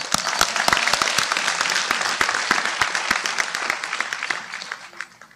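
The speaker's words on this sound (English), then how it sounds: "So let's give a round of applause to y'all." Dense, steady applause from a large audience at a high school Class of 2025 graduation ceremony, many hands clapping at once, gradually thinning and fading near the end.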